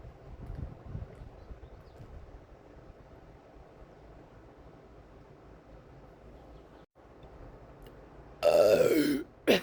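After drinking beer, a man lets out a loud, drawn-out belch near the end, following a long stretch of faint rustling and low background noise.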